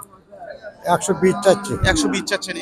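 A cow or calf moos at a rural cattle market, a loud, close, drawn-out low call that rises and falls in a couple of bursts after a quiet start.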